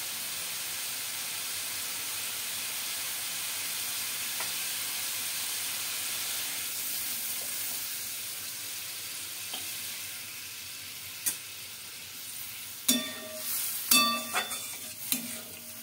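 Bata fish curry sautéing in a pan gives a steady close sizzle and frying hiss. Near the end come a few sharp scraping stir strokes, with no talk.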